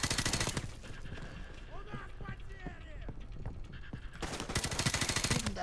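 Gunfire in the Call of Duty 4 Remastered campaign, with loud rapid bursts at the start and end of the clip and sparser shots between them, under a player's speech.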